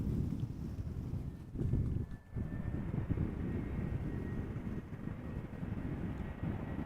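A TAP Air Portugal airliner arriving from Lisbon, a 23-year-old aircraft landing at Amsterdam Schiphol, gives a steady low engine roar with wind noise, fairly distant and continuous.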